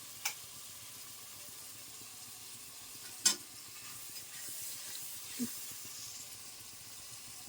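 Spices with chopped tomato are sautéed in a pan for a cauliflower and paneer curry, a low steady sizzle with a few sharp clinks of the spatula, faint and close, no voices.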